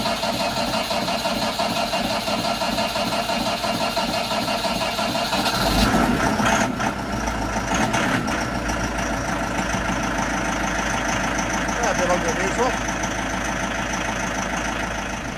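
A Massey Ferguson 698T tractor's diesel engine settles into a steady idle just after starting, a continuous close rumble with a brief louder burst midway and no talk over it.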